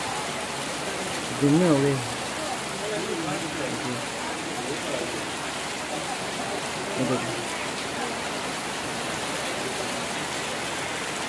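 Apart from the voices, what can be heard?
torrential rain at a vegetable market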